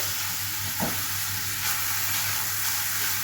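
Onions fry in a pan, giving off a steady, dense sizzle and hiss that stays at an even, close, fairly loud level throughout.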